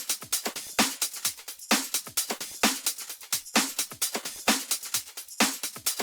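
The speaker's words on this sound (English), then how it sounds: "So that's the main drum loop" A pop garage drum loop from a Christmas song, with punchy kicks and crisp snares and hats in a tight, repeating syncopated groove, played loud and clean with nothing else over it.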